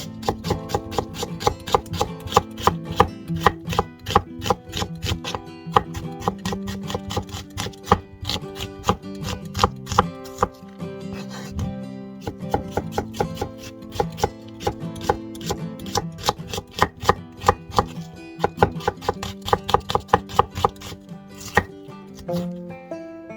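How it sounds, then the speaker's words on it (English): Rapid, rhythmic knife chopping on a board, dozens of crisp close strikes in quick succession with brief pauses, no voices. "So you slice them up thinly."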